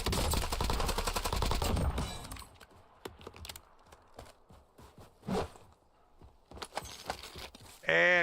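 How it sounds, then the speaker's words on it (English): Gunfire in the Warzone battle royale game, a dense loud burst of automatic fire at the start followed by sparse single shots and clicks, with faint voices in between. "Guess we need to shoot at him."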